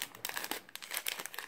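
A plastic Halloween bag is crumpled and squeezed close by, giving a quick run of crisp, crackling crinkles for about a second and a half with no talk over it.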